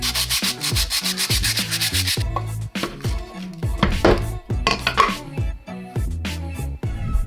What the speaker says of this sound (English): I have to sand a lot of the parts to make sure they fit perfectly